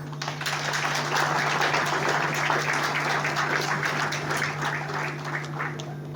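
Audience applause at a Burundi independence anniversary celebration, a dense, steady wash of many hands clapping from a sizable crowd, with a constant low electrical hum underneath.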